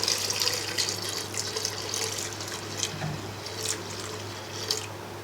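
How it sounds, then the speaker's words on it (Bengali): Water trickles and splashes into a pot of two cups of washed lentils being readied for Bangladeshi dal puri, a steady close, moderately quiet running pour with light dribbling and no talking. "এবার অল্প পরিমাণ পানি দিয়ে দেব।"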